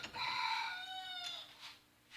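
A rooster crows outside near a workshop, one long drawn-out cock-a-doodle-doo rising and trailing off, heard at moderate distance and fairly clear, followed by a couple of faint bursts.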